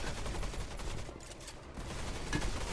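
Gunfire in the VR shooter Gun Raiders: dense, continuous rattling shots across the whole stretch, with a brief louder burst near the end and no talking.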